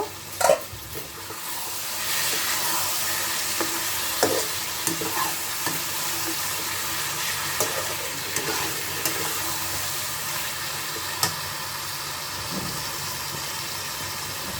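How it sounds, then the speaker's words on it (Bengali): Meat with cauliflower sizzles in a pan over a lowered gas flame, making a continuous close frying hiss with scattered pops and clicks and occasional stirring, and no one talking. "গ্যাসের ফ্লেমটা একটু কমিয়ে দেব এটা মিনিট দশেক আমি কষাবো"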